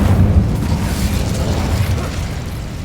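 An Incendio fire spell cast in Hogwarts Legacy, a loud, dense burst of low rumbling fire and explosion noise that fills the moment with no talking.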